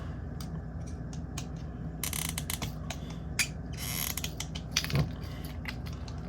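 Small screws being tightened and loosened on wire connectors for an underground well pump wire, giving repeated faint ratcheting clicks and creaks close by, with a brief word spoken once.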